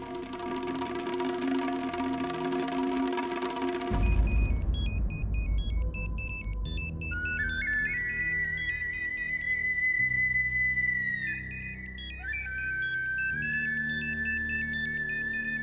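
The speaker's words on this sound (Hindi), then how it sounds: "फोन बज रहा है इनका।" A mobile phone rings with a bright electronic melody tone that repeats and carries on for several seconds, loud and close, after a brief stretch of other music.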